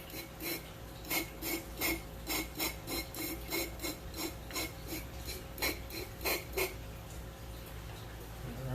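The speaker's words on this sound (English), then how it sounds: "I'm going to take a sprayer, spray in here to get him off the sides." A hand sprayer pumps water inside a glass bottle aquascape, rinsing plants off the inner walls in a quick series of short hissing spritzes, fairly close, with no talking.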